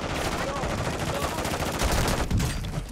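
Rapid automatic gunfire in a first-person shooter video game, loud dense bursts of shots rattling continuously with a faint voice underneath.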